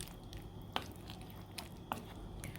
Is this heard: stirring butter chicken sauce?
yes